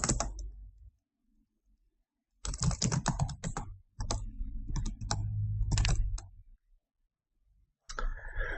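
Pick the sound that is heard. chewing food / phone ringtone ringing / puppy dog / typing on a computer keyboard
typing on a computer keyboard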